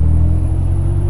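A Scania 143 truck engine in Euro Truck Simulator 2 rumbles at a steady low idle, a constant deep drone with a faint high whine running under it, no talk.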